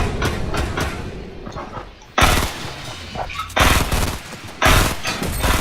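Loud, separate bursts of gunfire ring out in a shooting video game, three sharp volleys at irregular intervals over a quieter background of game noise.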